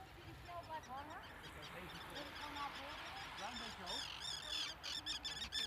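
Lots of birds squawk and honk in a busy, overlapping chorus at Amsterdam Airport, the calls growing denser and more frequent toward the end.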